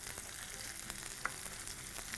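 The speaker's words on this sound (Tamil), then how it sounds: "நீட்டாக கட் பண்ணி வெங்காயத்தை போட்டாலும் சரி, இதை நல்லா வதக்கிடுறோம்" A steady, even sizzle of onions frying in hot oil, with faint scattered crackles and no voices.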